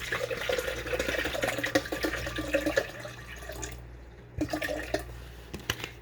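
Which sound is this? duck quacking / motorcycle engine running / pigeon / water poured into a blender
water poured into a blender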